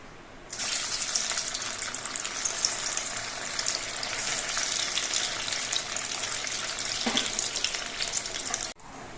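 Steady, loud sizzling of taro-leaf pakoras deep frying in oil, a dense hiss that holds for several seconds before cutting off abruptly.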